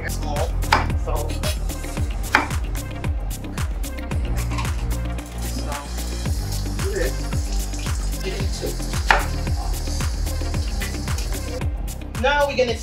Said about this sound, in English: Next thing we're gonna do is chop all these seasoned herbal seasoning